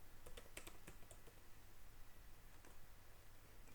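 Soft, quick keystrokes tap on a computer keyboard in irregular bursts, quiet and close, with no voices over the clicking.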